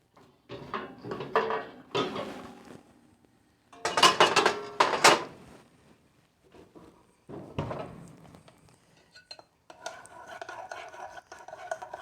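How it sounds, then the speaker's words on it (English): A baking pan for pumpkin popovers is taken out and handled in a kitchen. Several close metallic clatters and knocks come in short clusters with quieter rustling between them, and a voice speaks softly at times. "now we're going to get our pan out"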